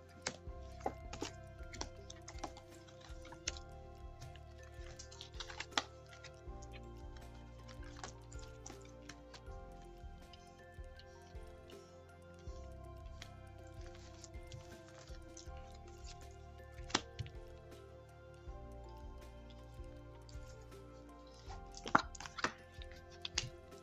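Soft handling of Triade oracle cards as they are drawn from the deck: quiet shuffling, rubbing and tapping, close and faint, continuing steadily with small clicks and no talking.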